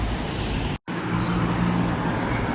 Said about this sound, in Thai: ตอนนี้ผมทดสอบอยู่บนสะพานลอยนะครับ ก็จะมีเสียงรถนะครับ เสียงมอเตอร์ไซค์นะครับ